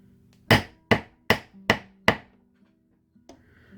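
A hammer strikes a 3D moon stamp into leather five times in a steady rhythm, each sharp, close thwack ringing briefly before fading, followed by a faint light tap and soft rustle.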